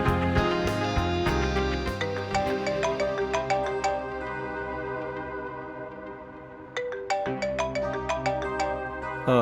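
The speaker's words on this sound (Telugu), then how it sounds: "సార్ ఫోన్ ఎత్తండి" A melodic electronic phone ringtone plays loud and close, in a repeating tonal pattern with a brief dip near the end before it starts up again, heard alone without any talking.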